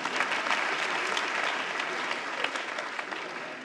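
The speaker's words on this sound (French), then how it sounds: "Applaudissez pour moi quand même." A comedy show crowd applauds, a lively, dense clatter of many hands that stays steady and fairly distant throughout the short stretch.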